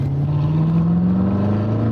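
The supercharged manual Chevrolet Corvette C7 Grand Sport engine drones loud and close on a track, its pitch climbing smoothly as it pulls under steady power.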